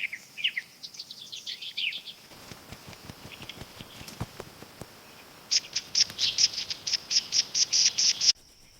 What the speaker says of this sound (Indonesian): Cinenen Jawa sering terdengar dari suaranya yang nyaring